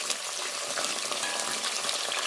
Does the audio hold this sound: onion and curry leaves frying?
yes